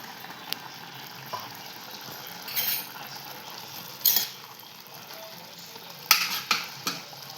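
Grated fresh wet coconut is stirred into a pan of pea and drumstick vegetable, giving a faint sizzle with a few soft scraping stir strokes and light clinks of a spoon against the pan.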